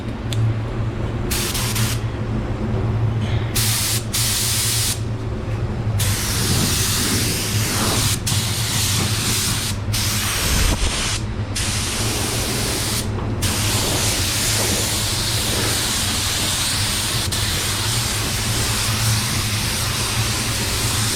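A 3M Performance spray gun laying down a coat of paint, a loud, close, continuous hiss of atomised spray, broken by several short pauses where the trigger is released.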